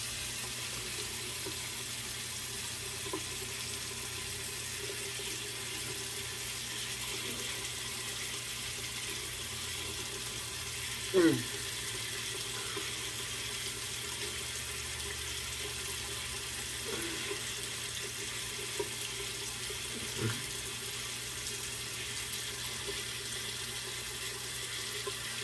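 A faint, steady stream of tap water rinses a Muhle R41 safety razor during a wet shave, a soft continuous hiss broken by a few small clicks and knocks.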